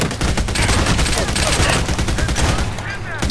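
Rapid gunfire in the co-op shooter game Army of Two at an oil field, a dense burst of automatic shots mixed with booming impacts, loud and close, with voices talking over it.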